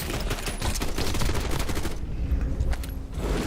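Rapid sustained gunfire in the video game Warzone, a dense, loud barrage of automatic shots that briefly thins before resuming, with no talk over it.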